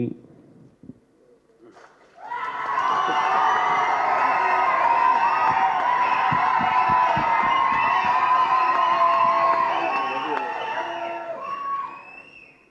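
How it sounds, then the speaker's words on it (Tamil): A large audience at a Tamil film event erupts in loud shouting, whistling and cheering that swells and holds for several seconds before fading, following brief speech from the stage. "பேரை சொல்லாமலே இவ்வளோ கைத்தட்டலாம்"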